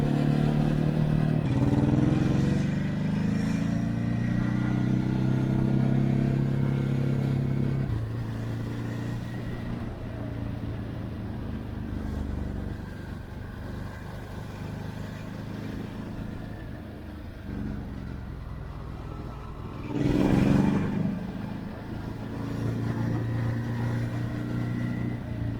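Ducati Hypermotard 950 RVE motorcycle twin engine running on a ride, a punchy steady drone with shifting revs that eases off mid-way, then a brief louder burst of acceleration near the end.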